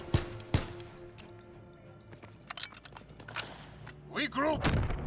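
Gunfire in a video game: a couple of sharp, loud shots near the start, followed by game thuds and effects, then a rising whooshing burst toward the end.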